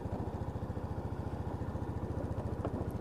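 A Lexmoto Titan motorcycle, freshly fitted with a new drive belt and rollers, idles on its stand with a steady, fairly quiet rapid putter, the low pulses even and unbroken, with no voices.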